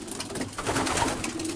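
Pigeons in a loft of young racing hens coo steadily and close, a dense, continuous murmur of soft cooing calls from several birds at once with no talk over them.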